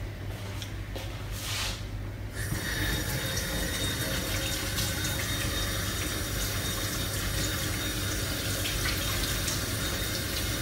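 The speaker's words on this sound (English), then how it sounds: "I'm going to go and wash the residue off my hands now." Water runs steadily from a kitchen sink tap while flour and butter residue is washed off hands, a continuous close gushing hiss that carries on unbroken throughout.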